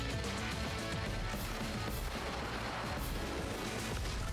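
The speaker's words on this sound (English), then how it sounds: "Oh, I actually get a shot on him with the artillery." Artillery in Advance Wars 1+2 Re-Boot Camp fires in a loud, continuous barrage of booms and crashes layered over game music, with no talking.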